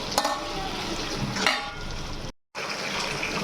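Tomato pieces frying in a pan for a spicy tomato chutney are stirred, giving a loud continuous sizzle with scraping strokes that cut out briefly before resuming.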